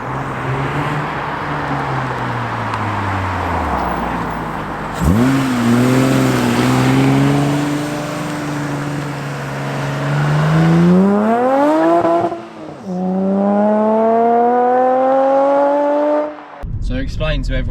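A mid-engine V6 Toyota MR2 sports car engine revs repeatedly, pitch sweeping up and down through the gears, loud and close, with brief pauses between pulls.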